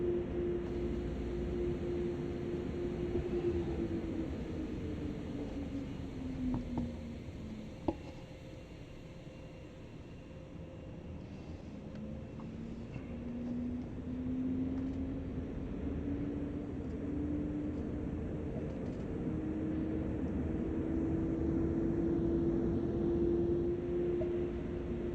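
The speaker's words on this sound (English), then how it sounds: "Now the train is just going to be towing again." Simulated ES64 electric locomotive from Train Sim World on the Ruhr-Sieg Nord line between Hagen and Siegen, a steady low rumble with a whining motor tone that slowly falls and then climbs again, continuous and moderately loud.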